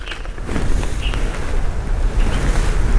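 Lightweight potting mix pours into a fabric grow bag, giving a steady, close, rushing and rustling sound that runs without a break and has no talk over it.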